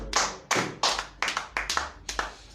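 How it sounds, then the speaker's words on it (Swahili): A church congregation claps in a quick, uneven rhythm: about a dozen loud, close bursts of many hands in under three seconds. "Tupigie Mwenyezi Mungu kwa makofi"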